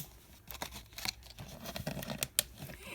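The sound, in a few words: scissors cutting plastic wrapper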